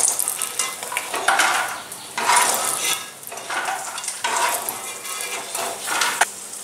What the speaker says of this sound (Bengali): গরম তেলে আমি এবার ফোড়নের জন্য রাখা শুকনো লঙ্কা 5 ফোড়ন আর তেজপাতা দিয়ে দিলাম